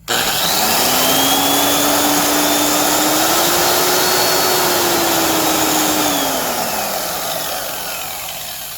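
A Porter-Cable 7403 six-inch rotary sander and paint remover runs loud and steady, its whine climbing and then easing through the variable speed range before it slowly winds down.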